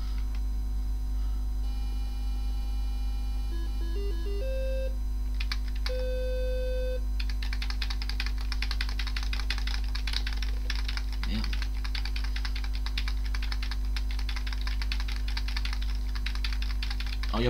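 Keys clatter rapidly on a Thomson TO8 computer keyboard during a game, a dense run of clicks over a steady hum with electronic game beeps, while someone talks.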